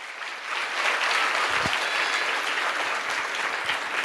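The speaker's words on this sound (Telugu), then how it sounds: "విశ్వసించిన వాళ్ళందరూ కూడా గట్టిగా చప్పట్లు కొడదాం" A congregation at a church festival mass claps hands together, steady dense applause filling the hall at close range, sustained without pause.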